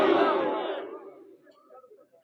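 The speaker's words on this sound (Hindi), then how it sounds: "नारा लगा दो, नारे तकबीर" A crowd at a religious gathering bellows the Takbir slogan in one loud, dense collective shout. It swells at once, then fades over about a second into a scattered murmur.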